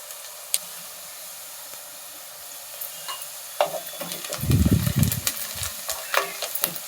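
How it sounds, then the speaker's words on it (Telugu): Onions fry in a pan for a potato masala curry, with a faint steady sizzle and scattered utensil clicks that become a louder burst of stirring and hissing partway through. "ఉల్లిపాయలు కొంచెం వేగాలండి."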